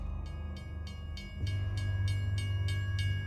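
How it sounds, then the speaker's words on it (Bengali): A train departure bell rings in quick, evenly spaced strokes at a railway station over a low rumbling train background, and the rumble grows heavier partway through. "ঠিক সেই সময় শোনা গেল ট্রেন ছাড়ার ঘণ্টার ধ্বনি"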